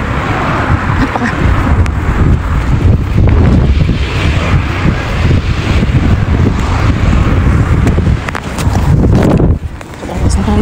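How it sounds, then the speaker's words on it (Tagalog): Strong wind buffets a microphone outdoors near water, a loud, continuous roaring rumble with gusty surges that briefly dip near the end. "Sobrang lakas ng hangin."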